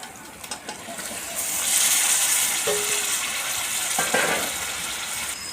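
Chicken pieces dropped into a pan of hot spice masala, sparking a broad, steady sizzle that swells after a moment and holds with a few clatters of stirring, close and fairly loud.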